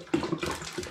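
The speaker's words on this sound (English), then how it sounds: "I'm going to add 2 litres of spring water." Spring water pours into a pan of pear pulp in a short splashing gush with a gurgle and a brief second splash, close by and with no talking.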